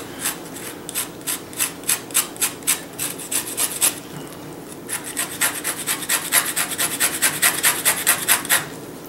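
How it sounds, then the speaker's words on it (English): Orange zest grated on a small handheld grater, a run of quick rhythmic rasping strokes, close and fairly loud, with a brief pause midway before faster scraping resumes. "Take this mini grater, squeeze in some of that zest. Sorry, not squeeze, grate in some of the zest."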